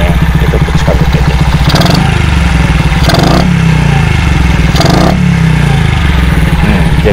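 A Honda Benly CD50 50cc motorcycle engine runs loud and close with a buzzy, rattling exhaust note, revved up in a few rising and falling surges over a steady idle.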